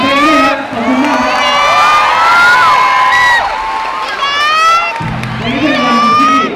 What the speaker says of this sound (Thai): ขอเสียงปรบมือให้กับเพลงนี้นะ